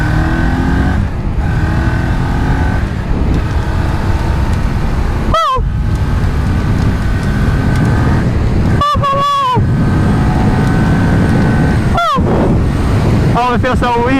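Strong wind roars across the microphone while riding a Kawasaki Ninja 400 motorcycle at about 70 mph on a road, loud and constant with engine rumble underneath, and a few brief spoken words cut through.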